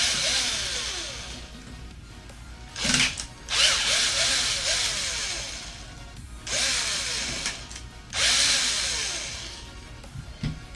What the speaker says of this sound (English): after I remove these screws.